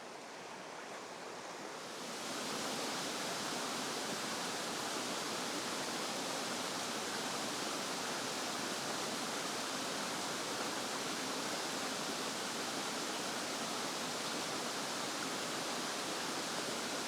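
Rushing water from waterfalls in Dartmoor woodland, a steady broadband roar that swells up after the first two seconds and then holds constant and loud throughout, with no voices.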